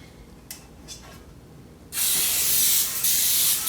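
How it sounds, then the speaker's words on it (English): A couple of faint spritzes, then a long, loud hiss of aerosol cooking spray pressed continuously for a few seconds while greasing cake pans. "Now we're going to grease our pans with our spray."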